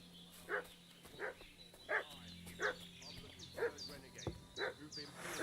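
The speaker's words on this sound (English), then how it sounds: "What's that dog making such a fuss about?" Dog barking in a video game, repeated sharp barks at a steady pace of roughly one every two-thirds of a second, moderately close, with quiet ambient background and no talk over it.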